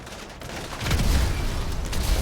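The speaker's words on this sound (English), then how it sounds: "That's one explosion on my car." A car blowing up in the video game GTA Online: a deep, sustained boom swells in after a quieter start and rumbles on loudly to the end, with crackling debris over it.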